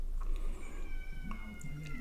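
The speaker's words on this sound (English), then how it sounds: "Here comes my cat." A house cat meows in a few short, close, moderately loud calls over a low steady room hum, with no speech.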